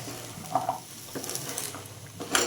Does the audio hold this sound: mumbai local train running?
no